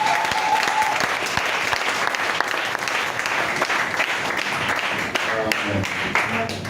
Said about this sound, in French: Acclamons le Seigneur Jésus-Christ.